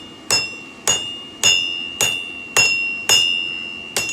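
Steel being hammered to forge a lid lifter, seven sharp ringing metallic strikes in a steady rhythm about half a second apart, each with a bright sustained ring, close and loud with no talking.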